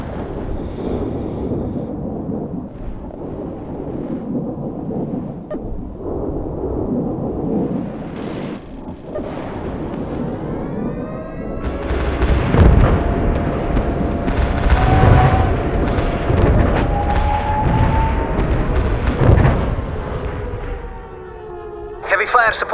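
Heavy artillery barrage in the World in Conflict strategy game, Soviet fire support pounding a fjord map: deep rolling booms and rumbling impacts that swell and overlap, with a radio voice speaking over the bombardment.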